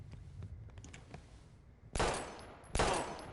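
Two loud, close bursts of gunfire in a video game erupt after quieter clicking and faint background noise, each burst sharp and broadband with a short ringing tail.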